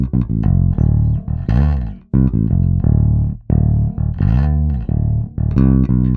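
Four bars of a bass guitar line, played on its own: a series of plucked, sustained bass notes in a steady groove, with short gaps between phrases and no talking.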